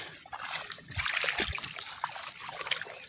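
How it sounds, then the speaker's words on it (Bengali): Fish and water from a fishing trap poured into a bucket, a continuous close splashing trickle with small slosh bursts and flapping splatters throughout. "বালতিতে নিয়ে এসে আমরা কিন্তু মাছগুলো ঢেলে দেখাচ্ছি"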